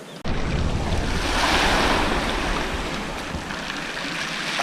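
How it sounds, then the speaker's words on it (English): Surf breaking and washing steadily onto a UK beach on a winter morning during shore fishing, a loud continuous wash with wind buffeting the microphone and no talk. "it's a lovely morning down here on the beach"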